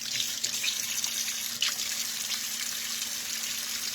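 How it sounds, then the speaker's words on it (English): A kitchen tap runs steadily into a sink while a pork chop is washed under it, a close, constant hiss of water with small splashes and no talking. "Let me wash this pork chop, okay? Let me wash it for y'all right there."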